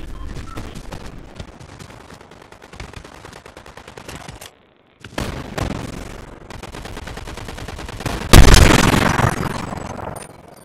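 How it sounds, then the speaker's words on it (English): Gunfire in the Fortnite video game during a TMNT Cowabunga Clash match, bursts of rapid shots with a short silent gap, then a loud close sharp blast followed by more firing. "Bro got sniped."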